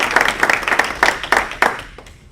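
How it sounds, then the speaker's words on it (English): Scattered audience clapping at a Rotary Club meeting, a brief burst of a few people applauding close by that fades out after about two seconds. "Let's give him a big round of applause."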